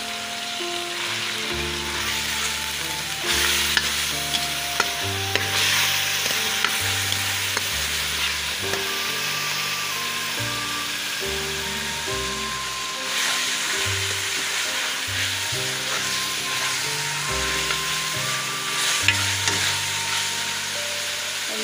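Garlic ginger paste frying in a pan with radish pods and onion green chili paste: a steady close sizzle runs throughout, broken by repeated stirring scrapes and soft knocks, with no voices.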